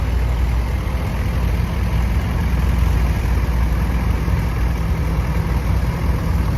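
A 1945 tractor engine idles at a threshing show with a low, even rumble, unchanging and close, with no voices.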